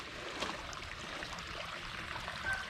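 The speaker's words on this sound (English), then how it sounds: "The water has a tendency to run underneath it, but maybe some of it will go over it." Water runs over a built ledge and stepped rocks in a koi pond, a faint, steady trickling stream with no talk.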